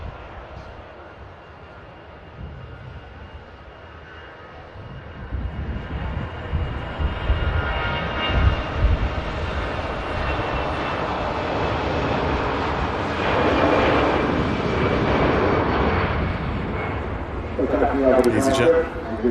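EasyJet airliner departing Manchester Airport for Geneva, its jet engine roar swelling from a faint rumble to a loud sustained rush that fades slightly and surges again, with people talking over it.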